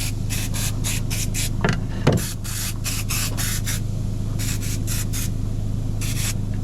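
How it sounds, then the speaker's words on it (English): A hand-pump bottle of stove glass cleaner sprays onto a wood stove's glass door in a rapid series of short hissing bursts, roughly a dozen in quick rhythm with a brief pause midway. "Sort of foams up when you spray it."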